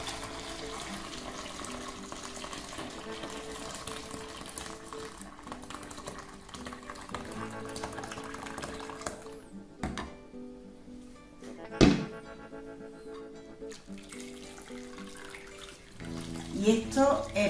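Blended shrimp stock for a fumet is poured and strained through a sieve, giving a continuous liquid trickle and splashing with clinks and rattles. Speech is faintly audible at times.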